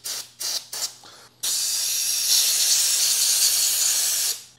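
Brake cleaner hissing from an aerosol can during a Ford 302 engine rebuild: a few short bursts, then one long steady close spray lasting about three seconds before it cuts off.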